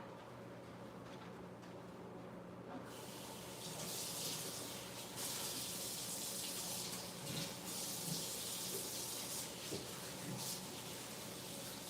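Water runs steadily from a kitchen tap during washing in Thanksgiving prep, first a softer trickle then a fuller, louder gush that keeps flowing with faint splashing, fairly close and alone.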